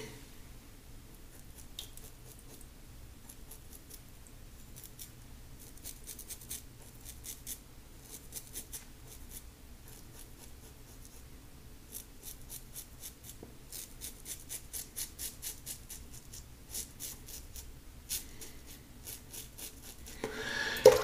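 A RazoRock Stealth slant razor scrapes in short, quiet touch-up strokes against stubble, faint rasping bursts that grow denser toward the end, with no talk.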